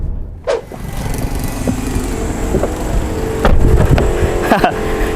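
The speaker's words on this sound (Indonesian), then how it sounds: "Mengendarai mobil Dodge SXT Platinum tahun 2013 ini" A 2013 Dodge Journey SXT Platinum SUV is driven, its engine and road noise forming a steady interior rumble, with a few brief clicks and knocks over the top.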